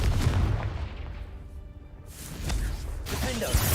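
A Confringo blast spell in Hogwarts Legacy, a heavy booming explosion with a rumbling tail, shouted spell names heard over the game's combat.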